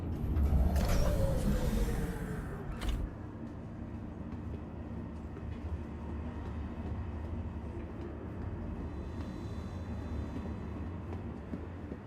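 Train in the video game Star Citizen: a steady, low rolling rumble carries on throughout, with a brief rushing swell in the opening seconds before it settles into an even drone.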